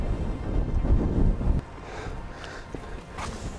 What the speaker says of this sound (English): It's super windy out here and it's already starting to rain a little bit.